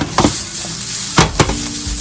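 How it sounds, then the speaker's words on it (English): A pan of Route 9 Johnny's Super Blend sautéing loudly, with a steady sizzle and a few sharp scraping stirs near the start and middle of the short stretch. "Get this nice and sauteed up."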